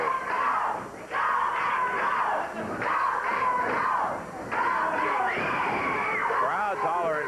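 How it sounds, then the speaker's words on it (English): A wrestling arena crowd at a 1986 Memphis championship show hollers and cheers in loud surging waves, with a commentator talking over the noise. "Crowd's hollering, go Basher, go."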